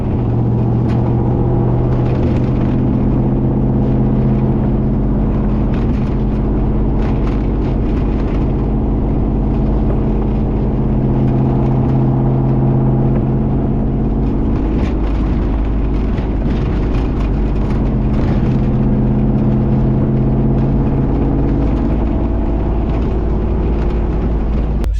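A 1992 Chevy C1500 pickup with a swapped LS1 V8 and T56 manual gearbox drives along, its engine droning loud and continuous from inside the cab with low rumbling road noise and shifting engine pitch throughout.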